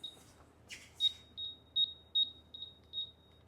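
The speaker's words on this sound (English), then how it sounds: "I'm going to go ahead and turn off the beeping because it is pretty annoying" A series of high-pitched electronic beeps from a DeWalt 12V/20V green cross line laser level, repeating at a steady rhythm, about eight short tones, with a couple of brief rustling noises near the start.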